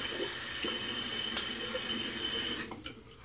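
Tap water runs steadily into a sink while shaving lather is being prepared, a continuous moderate hiss and splash that fades out near the end.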